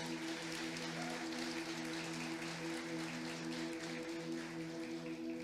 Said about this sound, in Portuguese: Aplauda Ele aí em nome de Jesus